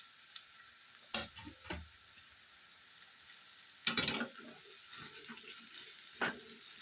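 Ivy gourd fries in a pan for a hotel-style ivy gourd and fresh coconut fry, just before grated coconut goes in; a quiet, steady sizzle with a few louder stirring scrapes and clatters, no voices.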